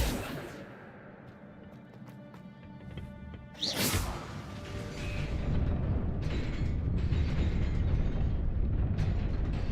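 Accio summoning spell cast in the Hogwarts Legacy video game: a sharp whooshing swell about midway, followed by a sustained rumbling, creaking magical texture that holds to the end over faint game ambience.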